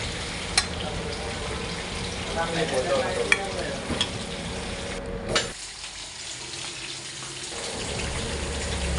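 Prawns with coconut stir-fried in a pan, a steady close sizzle with intermittent scraping stirs, the frying quieting noticeably for a few seconds midway before picking back up.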